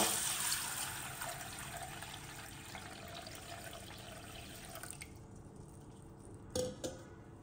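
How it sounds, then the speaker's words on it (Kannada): Water is poured into a vessel over a cup of green gram to soak it, a soft continuous splashing trickle at low volume that thins out toward the end, with a couple of light clinks. "ಒಂದು ಕಪ್ ಹೆಸರನ್ನು ನಾನು ನೆನೆಸಲಿಕ್ಕೆ ಹಾಕ್ತಿದ್ದೇನೆ ನೀರನ್ನು ಸೇರಿಸುವ"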